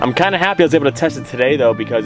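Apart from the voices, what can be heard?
No everyday noises stand out.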